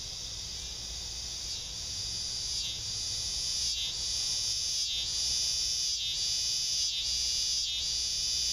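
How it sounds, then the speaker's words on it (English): A continuous, high-pitched insect buzz drones close by, steady and loud, with brief regular dips every second or so. "There's a cicada on the tree right there."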